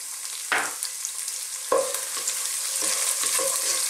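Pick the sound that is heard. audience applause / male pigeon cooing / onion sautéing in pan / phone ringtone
onion sautéing in pan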